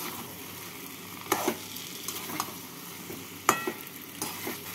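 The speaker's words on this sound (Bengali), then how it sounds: "এঁচড় আর আলু দিয়ে মশলার সাথে ভালো করে মিশিয়ে নেব।" Fried jackfruit and potato tossed with spices in a sizzling pan: a low steady fry under two sharp clusters of spoon scrapes against the metal, close by and without talk.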